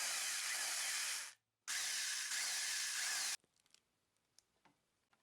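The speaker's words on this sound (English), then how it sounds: "I'm going to drill some holes so that we can screw it in here and here." A power drill whirs loudly in two bursts separated by a brief pause, then stops, leaving faint clicks and handling noises.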